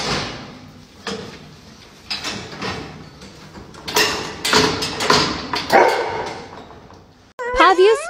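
A dog barks in short, loud bursts spread across the stretch, with thumps and household noise between, ending in a sharp high yelp or whine; a voice is heard too.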